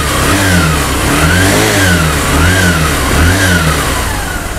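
Honda Shine BS4 2022 motorcycle engine running after a service, revved in steady repeated surges that rise and fall about once a second, loud and close with no talking.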